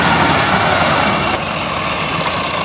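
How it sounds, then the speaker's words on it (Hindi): A tractor stuck with its rear tyre sunk in soil keeps its engine running in a loud, continuous, steady rumble, close by. "ये भी देखा है ट्रैक्टर जो है फंस गया है"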